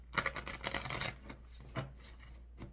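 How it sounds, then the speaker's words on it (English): Oracle cards from a bunny-themed deck are shuffled close up, a quick riffle of papery flicks and taps followed by a few softer card taps. "let's give it one shuffle for you guys that like to hear that"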